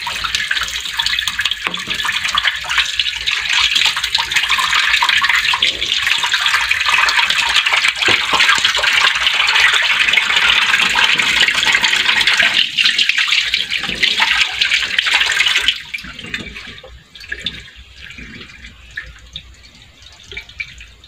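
Water gushes strongly and steadily for about sixteen seconds, then drops to a quieter, uneven trickle and splash near the end.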